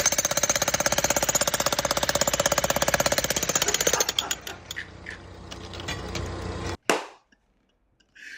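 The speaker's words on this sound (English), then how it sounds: "The jackhammer is back." A jackhammer pounds in a rapid, steady rhythm for about four seconds, then cuts out. Scattered clatter follows, then one sharp bang near the end before near silence.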